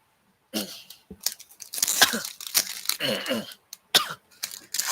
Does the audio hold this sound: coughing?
yes